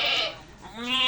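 A pregnant goat, two months along, gives a single loud, close bleat lasting about a second, its wavering cry rising again toward the end.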